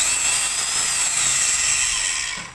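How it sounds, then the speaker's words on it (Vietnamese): A Hitachi 100 V, 335 W hammer drill runs steadily in plain drill mode, giving a loud continuous high-pitched whine that holds for about two seconds and then starts to wind down. "bật xuống là khoan."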